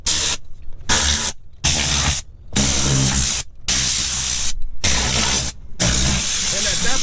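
Short bursts of compressed air from a small compressor tank, released by squeezing a trigger, hiss loudly in several separate blasts with brief silent gaps between them.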